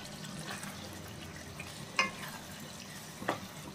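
A prawn and tomato curry simmers in a pan under a steady low sizzle, with a couple of brief spoon scrapes as it is stirred, and no talking.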